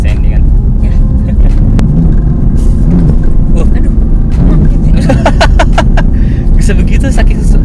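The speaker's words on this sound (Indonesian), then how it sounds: "Ini transmisinya lagi yang sport sih, jadi kasar banget emang." A BMW M4 Competition drives in sport transmission mode, a loud, constant engine and road rumble filling the cabin while people talk over it.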